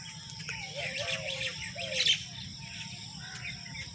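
Small birds chirp and whistle in trees on a village morning, with several short, fairly faint calls scattered over a soft outdoor hum and a light insect buzz.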